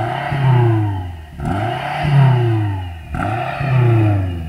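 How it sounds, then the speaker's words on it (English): A BMW M5 engine revving up in repeated surges, three loud swelling blips that rise and fall in pitch, close and prominent with no talk over it. "And now rev up and try not to break it."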